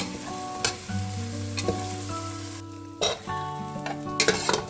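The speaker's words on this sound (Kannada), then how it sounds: "ಶುಂಠಿ ಅದೇನಿದೆ ಅದಷ್ಟನ್ನು ಸ್ವಲ್ಪ ಬಾಡಿಸ್ಕೊಳ್ಳಿ ಈ ಥರ ಎಣ್ಣೆಯಲ್ಲಿ" Ginger sautés in oil over low heat, a close, continuous sizzle with intermittent clinks and scrapes of a utensil against the pan.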